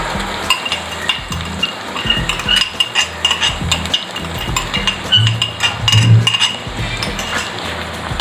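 Sauce is stirred into softened onions with a piece of celery for dragon chicken: a spoon scrapes and clinks against the pan in a busy, continuous rhythm over a background sizzle.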